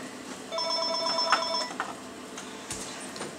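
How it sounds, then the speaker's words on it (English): A phone rings once with a bright electronic trill over quiet game and room background, followed by a few faint clicks and knocks; no one speaks. "That was my phone."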